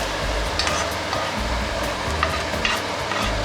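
French fries frying in hot oil in a covered pan for homemade burgers, a steady dense sizzle with occasional crackles and soft pops, close and continuous with no talking.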